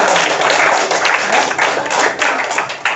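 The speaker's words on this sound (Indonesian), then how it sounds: "Betul, tepuk tangan nih." A classroom group claps together during a teaching session, loud close-up clapping with a rough rhythmic beat, a few thumps mixed in, lasting a few seconds.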